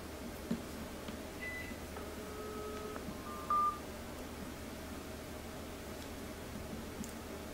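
Call setup tones on a Mobistel Cynus T5 dual-SIM mobile phone: several short electronic beeps and dialing tones of differing pitch. They sound faint and close over a steady hiss, with no talking.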